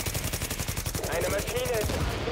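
Rapid automatic gunfire rattles loudly and continuously in the shooter game The Division, a dense rhythmic burst of shots that keeps going throughout.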